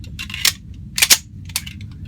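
A handgun firing, a few sharp cracks spaced about half a second apart, fairly close, with a faint low background rumble between shots and no talking.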